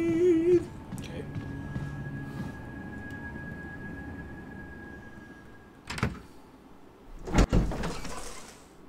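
A door in Resident Evil creaks and slides open slowly amid a tense ambient hum, followed by two sharp thuds of it moving and settling, close and fairly loud.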